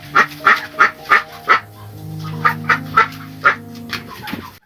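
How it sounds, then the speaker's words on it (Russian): Three young ducks raised by their mother honking and quacking close up, a loud series of evenly spaced nasal calls, a short gap, then a second run of similar calls. "Вам, наверное, сложно будет поверить, что это то самое трио маленьких утят."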